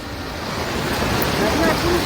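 Water overflowing a dam, a steady, dense rushing roar with no breaks, heard close and loud throughout.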